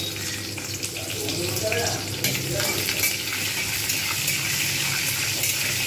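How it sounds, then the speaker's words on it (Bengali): Panch phoron and whole cumin seeds fry in oil with dried and green chillies for a shyama-grain khichuri, giving a loud, continuous hiss and crackle with stirring scrapes, heard up close. "পাঁচ ফোড়ন আর গোটা জিরে ফোড়নটা আমি এর মধ্যে দিয়ে দেবো জাস্ট একটুখানি ভেজে নেবো"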